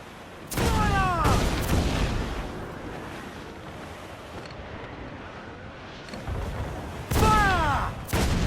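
Ship cannons boom in Assassin's Creed IV Black Flag, two loud volleys of several blasts each, one near the start and one near the end, with wind and ocean wash rumbling between them.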